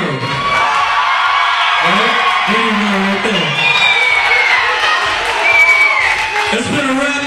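A live crowd at a women's music show cheers, whoops and applauds performers throughout, a loud, steady roar with a voice calling out over it.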